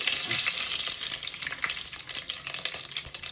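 Fenugreek seeds sizzling in hot oil with mustard seeds in a pan while making mulak varutha puli, a steady close crackling fry with light stirring scrapes and no talk.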